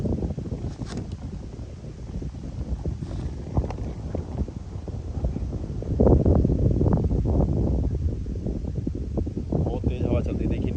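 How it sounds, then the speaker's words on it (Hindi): Strong wind gusts through a dense forest at night on a rural farm in Uttar Pradesh, a steady loud rushing with buffeting on the microphone that swells louder in the second half, with footsteps and handling noises mixed in. "बहुत तेज हवा चल रही है"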